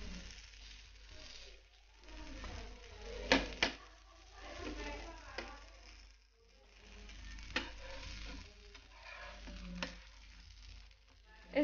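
Puran poli, a sweet Maharashtrian flatbread, roasting with oil on a hot pan: a soft, continuous sizzle with scattered clicks and scrapes, moderately quiet and close.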